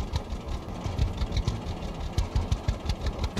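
Tractor engine in the farming game Farmer's Dynasty runs at a steady low chug with rhythmic knocking pulses, moderately loud and continuous, no voices.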